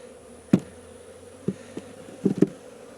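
Honey bees swarm around an open hive during robbing in an apiary. A faint, steady buzz carries throughout, broken by a few short, sharp knocks and thumps nearby.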